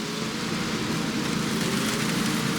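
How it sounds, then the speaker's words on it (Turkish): Steady rain falls throughout, a dense continuous hiss with no breaks, fairly loud and close, and nobody speaks over it. "Bu arada yağmur var ya."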